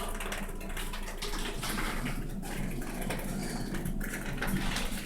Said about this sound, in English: Look at that leak right there.